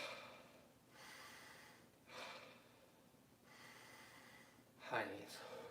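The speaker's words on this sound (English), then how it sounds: "3 deep breaths." Faint, close breathing during a home quarantine workout: a few slow, deep airy inhales and exhales spaced about a second apart, ending with a sharper snorting breath.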